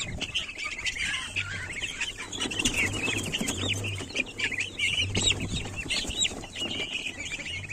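Guinea fowl and other poultry call in a farmyard at evening feeding, a busy chorus of harsh clucks, squawks and chattering cries close by, with a low repeated hum underneath.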